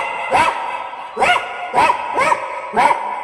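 A comedian on stage at a cotton mill recreation club's anniversary celebration imitates a poor household's dog barking with his voice: five loud, evenly spaced barks, close and clear.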